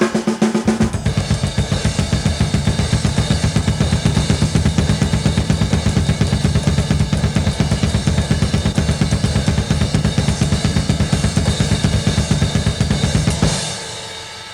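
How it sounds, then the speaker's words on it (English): A drum solo of cymbals played over a fast double bass drum, a loud, driving stream of rapid kick hits under constant cymbal wash that stops abruptly near the end. "playing the cymbals with the bass drum playing, or the double bass drum playing"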